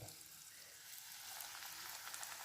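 Onion pakoda batter dropped into hot oil, frying with a steady, dense sizzle that crackles close and loud and grows slightly busier throughout, no voices.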